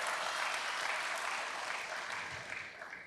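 A church congregation applauding, a steady wash of many hands clapping that fades slightly toward the end, heard from a distance in a large room.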